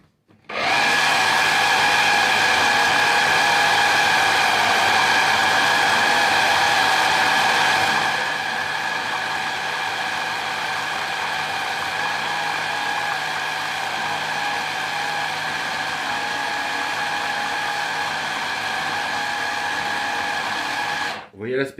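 A blender whirs loudly and steadily as it mixes anchovies into a thick anchoïade paste, the pitch dropping slightly partway through before the motor stops at the end.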